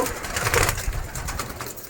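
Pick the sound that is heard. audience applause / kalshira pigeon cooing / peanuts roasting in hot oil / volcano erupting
kalshira pigeon cooing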